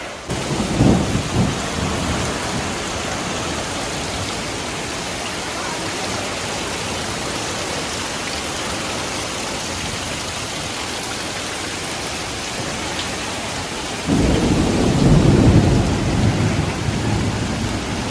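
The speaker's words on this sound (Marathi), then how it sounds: "लई जोरात पाऊस, लई जोरात." Heavy, roaring monsoon-like downpour in Konkan, India, in early May, drumming steadily on a wedding home's pavilion, with deep rumbles of thunder near the start and swelling again toward the end.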